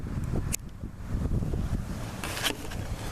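A sudden gust of wind outdoors buffets the microphone in rough, rumbling waves, loud and close throughout with a couple of sharper bursts.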